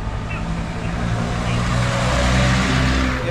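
Riding behind a motorized tricycle in the Philippines: a steady, close engine drone with road rumble that swells slightly toward the end, with no clear talk.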